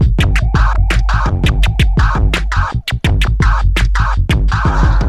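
Loud, busy DJ turntable scratching over a thumping beat, repeated quick stabs with an extra sharp stab before each release, cutting in rapid rhythmic bursts up close.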